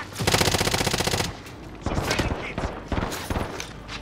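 Rapid automatic gunfire in the Call of Duty: Modern Warfare video game, one long loud burst followed by shorter bursts, close and dominant, with no speech over it.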